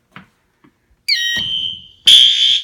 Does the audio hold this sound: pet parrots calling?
no